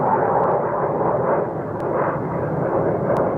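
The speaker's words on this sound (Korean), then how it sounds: "비행기 소리도 나고" A loud, steady roar of an airplane passing overhead, filling the whole stretch evenly with broadband rumble, in an outdoor rural setting.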